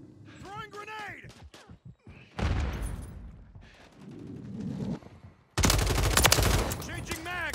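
Game gunfire from Call of Duty: Modern Warfare III, heard in dense bursts and sharp rapid volleys mixed with shouted voices and other sounds, swelling to a loud sustained burst near the end.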